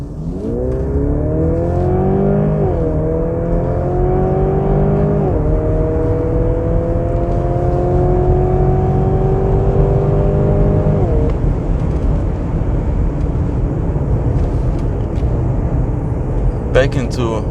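A 2023 Mercedes GLC AMG 400e hybrid SUV accelerating hard from inside the cabin, its engine rising in pitch through several gear shifts, then settling into a steady road and engine roar with faint clicks near the end.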